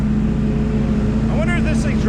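Can-Am Sportsman XP 1000 ATV engine revving hard under full throttle, a steady loud droning roar with strong low harmonics, rising in pitch toward the end as a voice talks over it.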